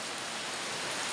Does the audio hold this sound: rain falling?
yes